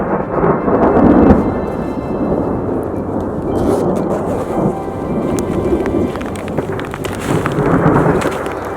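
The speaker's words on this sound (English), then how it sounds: "Gotta love a good mountain thunderstorm" A mountain thunderstorm with hail rumbles loud and continuous, with steady rain and hail hiss on the surface and rolling low thunder throughout.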